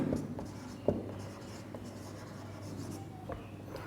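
Steady scratching strokes of writing on a board during a physics lesson, close and continuous, with a faint tap near the start and no talking over it.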